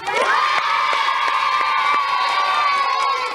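A studio audience at a children's television game show cheers and shouts loudly as a winner is called up, the crowd noise steady and close with excited voices throughout.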